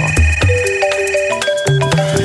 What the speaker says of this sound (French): C'est une compile de sonneries là.